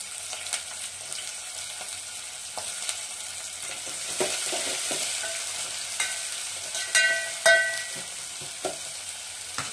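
Sliced onions and green chillies fry in oil in a pan for a country chicken curry, a steady soft sizzle running throughout with scattered clicks and scrapes of a spoon stirring, growing busier toward the end.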